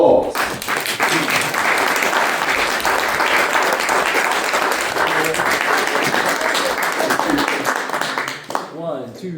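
Club members at a meeting break into dense, sustained applause, many hands clapping together for several seconds before it tapers off into a few scattered claps and a brief voice.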